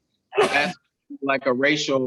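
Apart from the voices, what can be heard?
sneeze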